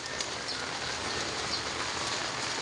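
Rain falling steadily and growing heavier, a dense, even hiss of drops on surfaces close by without any talk.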